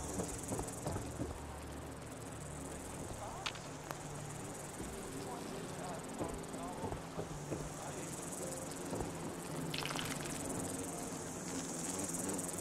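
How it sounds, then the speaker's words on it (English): Insects buzzing and chirring in Fallout 4: a dense, continuous, cricket-like trill fills the whole stretch at a steady level, with a few faint clicks and thumps scattered through it. "I hear the bugs."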